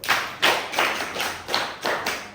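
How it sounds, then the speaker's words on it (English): Students in a classroom clap together in an even, rhythmic pattern, about seven firm claps spaced roughly a third of a second apart, close and clear with no talking over them. "Clap for yourself."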